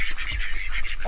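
Several farm ducks quack and honk continuously in a dense, close chorus, with no voices over them.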